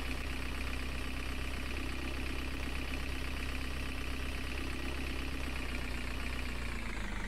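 A street cleaning vehicle's engine idles in Street Cleaning Simulator 2011, a steady low rumble with a faint constant hum, even and unchanging throughout, with no talk.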